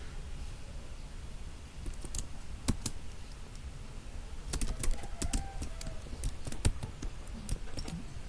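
Code is typed on a computer keyboard in quick, irregular bursts of sharp key clicks, with short pauses between runs of keystrokes, heard close up over a quiet room.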